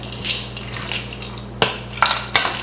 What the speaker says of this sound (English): I'm just going to mix it with a spoon